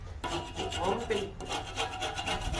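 Scraping the inner sides of a boiling pot to collect saltpeter crust, a steady rasping rub with rhythmic strokes, close and continuous throughout.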